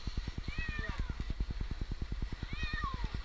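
A cat stuck up a tree gives a few short, faint meows above a fast, regular mechanical thumping that runs throughout.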